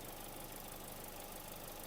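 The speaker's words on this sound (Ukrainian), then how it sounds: "двигунчик працює дуже гарно" A 2020 Nissan Rogue with a 2.5-litre petrol engine runs at a smooth, even idle, a steady close hum and whir with no talk over it.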